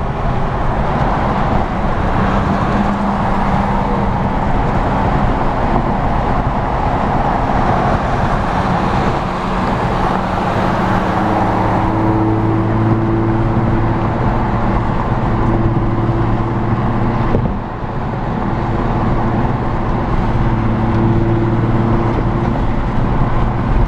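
A custom Infiniti G35 with a modified intake box drives along a road, its steady engine drone and road roar continuous and loud throughout, with a faint tonal hum rising partway through and no speech.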